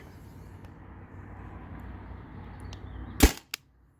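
A Byrna TCR CO2-powered launcher fires one sharp, loud shot late in a quiet outdoor stretch of low background hum, followed by a brief fainter report.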